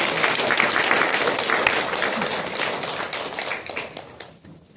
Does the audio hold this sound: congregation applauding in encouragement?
yes